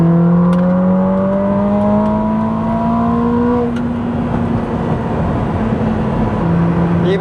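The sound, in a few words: Ferrari 849 Testarossa exhaust accelerating in race mode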